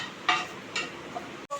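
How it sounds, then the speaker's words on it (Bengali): Nigella seeds tempering in hot oil in a frying pan give off a soft, steady sizzle, broken by two brief louder crackling bursts and a light clink of a utensil near the end. "ফ্রাইপ্যানে কালো জিরে ফোড়ন দিলাম"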